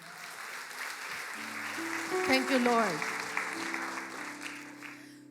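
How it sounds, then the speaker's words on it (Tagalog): Church congregation applauding during a sermon, a steady wash of clapping that swells in the middle, with a voice speaking briefly over it and sustained organ or keyboard tones underneath. "Deserve po ng Panginoon ng palakpak natin."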